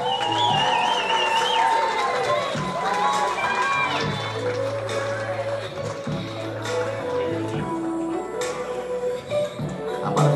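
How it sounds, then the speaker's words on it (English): A crowd applauds and cheers for a couple being introduced at an event, a dense, continuous roar with whoops and shouts layered over music-like tones, loud and close. "Big applause, please."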